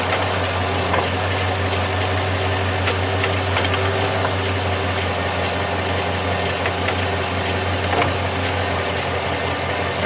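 A 2019 Chevrolet Silverado with an 8L90 transmission idles in gear, a steady, loud low engine hum with mild vibration running unchanged throughout.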